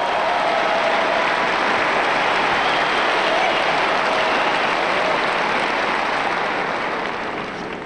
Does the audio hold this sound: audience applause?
yes